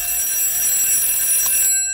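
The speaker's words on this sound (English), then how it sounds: "your daughter has set an alarm for the street or her own self" An alarm clock rings continuously with a bright, steady electronic tone, loud and close, then cuts off abruptly near the end.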